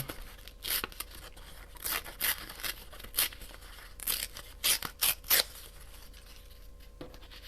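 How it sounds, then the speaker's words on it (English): Paper scraps are torn by hand, close up, in a run of short, crisp ripping bursts, some single and some in quick pairs, with quiet pauses between and no talking. "I wonder if I just tear some of this down"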